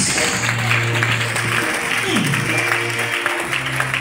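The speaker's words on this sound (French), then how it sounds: "Acclamez Jésus-Christ." A church congregation applauds in a dense, continuous clatter of hands, with voices and a low sustained musical tone mixed underneath.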